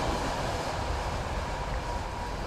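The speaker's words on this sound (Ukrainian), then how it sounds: "навіть потяг промчався" A train rushes past near a trout stream on a rainy day, producing a steady, loud broadband roar that fills the whole moment without pause.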